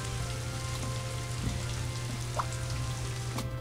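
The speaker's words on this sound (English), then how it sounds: "Rain." Rainfall in the video game Scribblenauts Unlimited makes a constant hissing patter over a low, steady hum, with a few faint isolated drips or taps standing out, moderately quiet and without speech.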